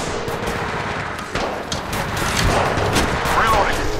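Kraber sniper rifle shots ring out in Apex Legends: several sharp, loud cracks spaced through a busy, constant game soundscape, with voices heard alongside.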